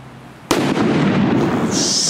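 Fireworks in Valencia go off with a sudden loud bang, then a dense, continuous crackling and sizzling burst rolls on close by, with a brighter hiss rising near the end.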